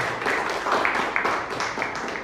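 A short burst of group clapping, fairly close and uneven, from a school classroom full of students.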